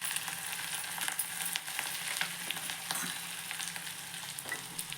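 Ginger and asafoetida sizzle steadily in hot oil in a pan while coriander pongal is cooked, a continuous close frying crackle with light stirring scrapes and no talk.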